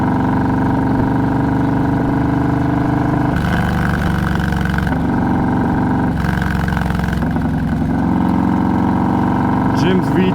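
Harley-Davidson 117 cubic inch V-twin with Stage 2 tune, 821 cams and an aftermarket exhaust, heard while riding: a steady loud engine drone that swells in throttle surges, close and continuous throughout.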